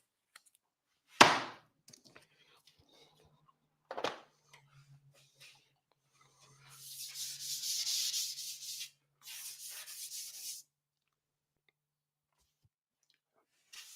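180-grit sandpaper rubbed by hand over a tank surface, two short soft sanding passes after a few isolated knocks and clicks in an otherwise quiet space.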